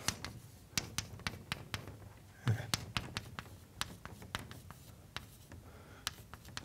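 Chalk tapping and scratching on a board as a diagram is drawn during a mathematics lecture, a run of crisp, irregular taps and short strokes, fairly close and alone.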